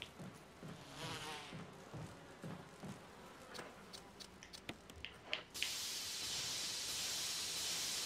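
Bees buzzing in the video game Resident Evil Rebirth, a rough insect drone mixed with scattered game effects, then a sudden steady hiss like a spray taking over near the end.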